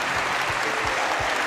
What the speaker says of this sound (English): Let's give a round of applause to those viewing by television